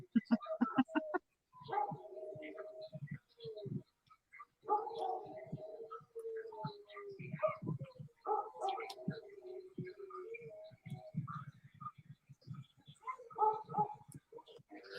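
Several neighbourhood dogs howling and barking behind a house, their drawn-out howls overlapping and answering each other at a distance, mixed with short yips and faint nearby voices.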